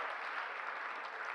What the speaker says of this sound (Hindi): तालियां थोड़ी बज रही हैं आपकी।